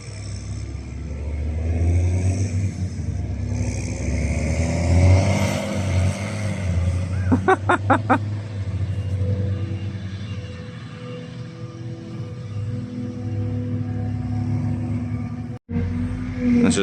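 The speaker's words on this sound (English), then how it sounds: "you can hear the 70-40 roaring away in the background" A 70-40 tractor engine roars steadily in the background during second-cut silage work with a Claas chopper, a loud continuous low rumble with a brief burst of rapid clicks partway through.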